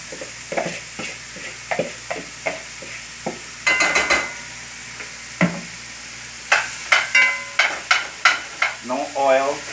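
Ground beef sizzles and crackles in a hot frying pan without oil, with repeated scraping and stirring strokes at a steady rhythm; a faint voice surfaces briefly.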